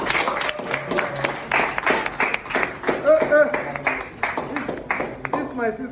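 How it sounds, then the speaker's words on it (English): A classroom of students gives a round of applause, a run of quick claps from several people nearby with a voice talking over parts of it. "A round of applause for her."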